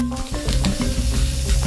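Chicken breast and mushrooms fry in a pan with a steady close sizzle, a faint hum and a few soft stirring clinks running under it.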